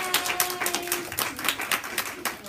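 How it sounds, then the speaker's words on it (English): Audience at a consultant bootcamp event clapping together, a brisk, fairly soft round of applause with uneven overlapping claps throughout. "Guests, big round of applause for them."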